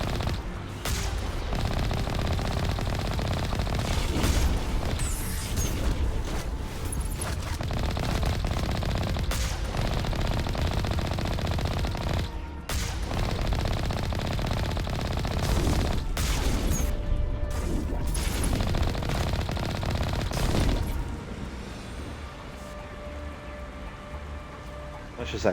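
Gunfire during a Mass Effect Legendary Edition combat fight, dense rapid bursts of shots over a constant noisy din of battle, running steadily for about twenty seconds before dropping away.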